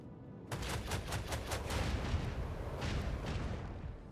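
Ship weapons fire in a space battle in Warhammer 40000: Rogue Trader, a rapid volley of about a dozen heavy, booming shots in quick succession over a deep rumbling roar that lingers after the salvo.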